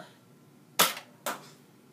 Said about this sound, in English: So, holding it straight and firing.